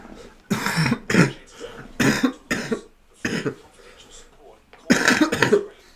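Several close, harsh coughs come in short bursts, mixed with throat clearing and some speech.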